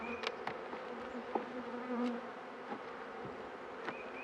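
Honeybees buzz steadily nearby during a spring hive inspection, a close droning hum with individual bees zipping past now and then.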